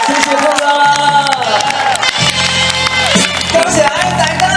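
A large outdoor concert crowd in Taitung cheers and claps for a singer over loud band music, a continuous roar with scattered claps and shouts mixed in.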